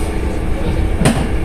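Inside a moving tram in Milan, a steady rumbling roll of wheels and carriage noise fills the space, with one brief sharp clack or squeal partway through.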